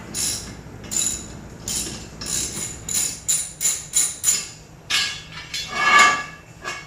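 A steel bar works loose the crank pulley bolt on a 2004 Lexus IS300, giving a quick series of sharp metallic clicks and clanks. They come close up in an uneven, ratchet-like rhythm, with no talking.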